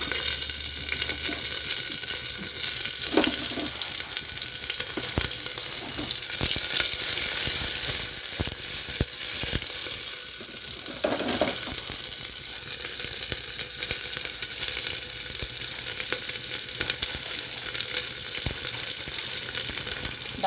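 Chopped onion fries in a pan for dalma, a loud, dense, continuous crackling sizzle that runs throughout, with occasional stirring knocks and no speech.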